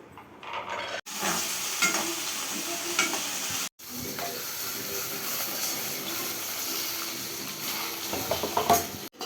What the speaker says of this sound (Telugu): ఇవన్నీ ఇలాగా మాడిపోకుండా బాగా లైట్గా వేగేటట్టు వేయించుకొని చట్నీకి చల్లార్చుకోవాలన్నమాట.